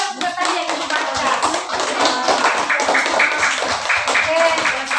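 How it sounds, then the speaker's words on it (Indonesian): A classroom group claps together for everyone, a dense run of quick, close hand claps that continues steadily throughout while a voice speaks over it. "tepuk tangan dulu untuk semuanya"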